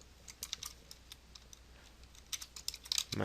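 Fingers type on a computer keyboard in quiet, uneven bursts of light clicks up close, growing busier toward the end.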